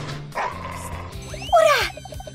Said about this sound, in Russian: Тише, собачка!